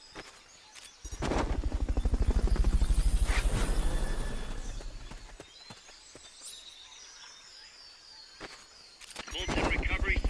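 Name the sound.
helicopter in Metal Gear Solid Peace Walker video game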